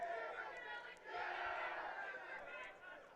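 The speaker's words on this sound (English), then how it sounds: "Entire Hornet bench is up and cheering right now." A crowd of players on the Hornets bench shouts and cheers loudly and continuously at a boys' varsity soccer section final, with excited voices blending into a sustained roar.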